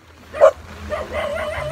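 A dog gives one sharp yip or bark close by, followed by softer whimpering sounds, all over low background noise.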